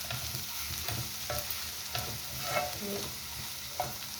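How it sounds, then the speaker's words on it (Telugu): Beetroot fry with masala and chili powder being stirred in a pan. A soft, continuous sizzle runs under repeated spatula scrapes and stirring knocks, close and moderately quiet, with no talking. "ఇవన్నీ వేసుకొని లాస్ట్గా ఒకసారి మొత్తం మిక్స్ అయ్యేలాగా కలుపుకుందాం."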